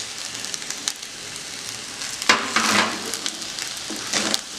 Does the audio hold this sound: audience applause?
no